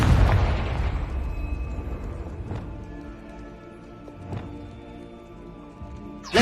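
Confringo explosive spell blasts in Hogwarts Legacy, a loud booming burst at the start that rumbles down, followed by a couple of smaller sharp pops later in the game scene.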